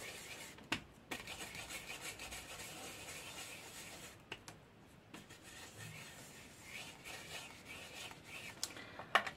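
Salvaged Patina ink is rubbed onto the top of a 3D embossing folder in close, quiet, continuous scratchy rubbing strokes with a few small taps, no voices.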